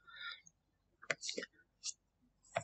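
Sharp mouse clicks on an object with the point-on-object tool in modelling software, two crisp isolated ticks spaced well apart, with quiet speech-like sounds between them.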